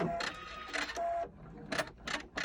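A sewing machine stitches down the edges of a lined fabric pocket in short, close bursts of whirring with brief pauses between them.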